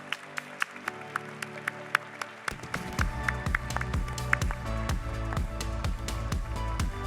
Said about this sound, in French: Merci d'applaudir nos deux invités.